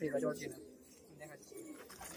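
Giribaz pigeons at a pigeon sale in Murshidabad coo softly in a few low, murmuring bursts, faint and close, with a background voice mixed in.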